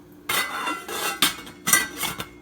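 Metal kitchenware clanks and clinks in several sharp bursts, close by, like a lid being set onto a pot of vegetable stew, with no talking.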